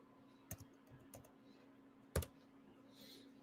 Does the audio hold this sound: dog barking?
no